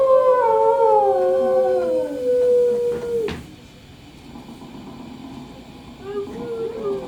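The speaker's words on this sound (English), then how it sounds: "Down, Rover" An animatronic dog in a Disney Carousel of Progress show at Magic Kingdom gives a wavering, sliding howl that trails off, followed by low room noise and a faint voice.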